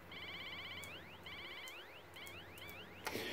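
A CB radio's roger beep sounds as a quiet, bird-like electronic chirp: several rapid warbling trills and rising sweeps repeating over about three seconds, then a burst of static.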